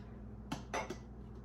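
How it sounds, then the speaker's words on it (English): A few quick metallic clinks of a ladle against pots and hot jars while stewed tomatoes with juice are spooned in, soft and close in an otherwise quiet kitchen. "I'll put a ladle of tomatoes in each one with just a little bit of the juice."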